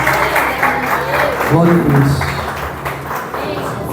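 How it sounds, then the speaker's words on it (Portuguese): A church congregation claps during an evening worship service, a steady rumble of applause mixed with voices praising God and a speaker's words over the top. "E uma salva de palmas ao nosso Deus"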